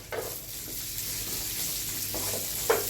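Onion pieces frying in a pan of oil for garlic rice, a steady close sizzle with a few stirring scrapes, alone without voices.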